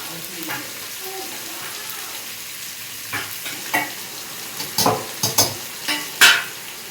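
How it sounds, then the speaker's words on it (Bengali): Mixed vegetables for chilli chicken fry in a pan with a steady sizzle, while a spatula stirs and knocks against the pan in a string of sharp clanks that build toward the end. "দেখো সবজিগুলো আমার হালকা ফ্রাই হয়ে গেছে"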